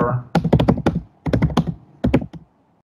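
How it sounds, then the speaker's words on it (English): Quick bursts of typing on a computer keyboard, close and crisp, in three short runs of clicking keystrokes separated by brief pauses, with no talking. "for subject we can type anything"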